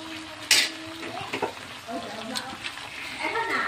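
Spices for chili chicken fry crisply in a pan, a bubbling sizzle mixed with stirring scrapes and a loud clatter near the start, while someone talks throughout.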